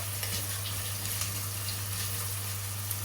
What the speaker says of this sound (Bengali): এখন পেঁয়াজটাকে একটু বাদামি বাদামি করে ভেজে নিব